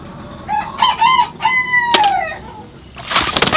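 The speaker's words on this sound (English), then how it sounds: "We have these roosters right here that freely roam" A free-roaming farm rooster crows close by, a long drawn-out call, followed by a brief burst of rustling like flapping wings.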